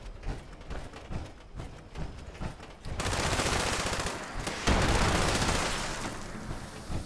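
Rapid bursts of explosive light machine gun fire in the Fallout 76 video game, a short volley first, then a loud, sustained roar of continuous shots and blasts.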